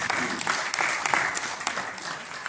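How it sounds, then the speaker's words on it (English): A crowd at a summit at Lincoln Hospital in the Bronx applauds the hospital staff, a dense, steady wash of clapping from many hands that holds evenly throughout. "So can you give the Lincoln Hospital staff a round of applause?"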